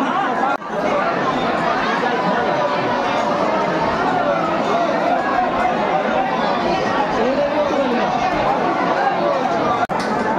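Dense crowd of pilgrims at Baba Baidyanath temple in Deoghar, a steady wall of overlapping chatter and babble with scattered laughs, close and loud throughout.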